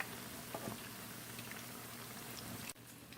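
Koose bean fritters frying in hot oil while being flipped, a steady close bubbling sizzle with a few small pops and a brief drop in level near the end.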